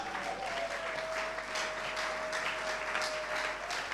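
Sustained applause from a church conference audience, a steady dense wash of clapping holding at even strength throughout, with a faint high whistle-like tone running beneath it.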